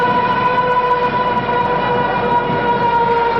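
A loud, sustained siren wails inside an ice hockey stadium during a Finland versus Norway relegation game, its steady tones ringing over a dense roar of crowd noise.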